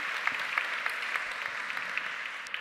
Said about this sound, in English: You can also make an applause.